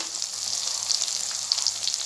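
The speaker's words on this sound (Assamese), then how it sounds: "বিলাহীটো কিছু সময় ভাজি ল'ব" Chopped tomato frying with onion in a hot pan for an Assamese dal with drumsticks and potatoes: a steady, close, even sizzle with faint crackles, no voices.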